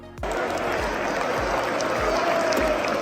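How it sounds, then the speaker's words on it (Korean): Stadium crowd at a Tottenham football match rising in a standing ovation as Son Heung-min is substituted off late in the second half; dense, steady applause fills the stands from start to finish with faint low thumps beneath. "일어서서 기립박수를 치는 관중 속에서 경기장을 나서는 손흥민의 표정은 한결 밝았으며"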